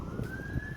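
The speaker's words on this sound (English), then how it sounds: "You hear sirens in the background." An emergency vehicle siren on a city street near a nature preserve, a steady rising tone held in the background over low outdoor rumble.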